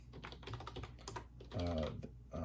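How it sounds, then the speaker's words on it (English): Typing on the keyboard of a Tandy TRS-80 Color Computer gives quick clustered key clicks, while a faint low hum and some tonal background sound carry underneath. "I could actually type on this keyboard on the Coco"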